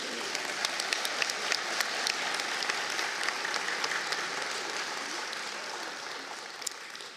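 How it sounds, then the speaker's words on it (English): An audience at a 2016 graduation ceremony for students with disabilities gives a sustained round of applause. The clapping is steady and hall-filled, with sharper individual claps standing out, and it fades slightly near the end. "Sam, I think he deserves a round of applause"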